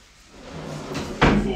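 A large bathroom vanity drawer slides open and then shuts with a firm thud, close by, against a quiet indoor background.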